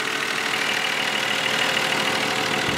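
A 2020 Mercedes E53 AMG's 3-liter inline six-cylinder engine idles smoothly and steadily, a constant even hum close by with no talking.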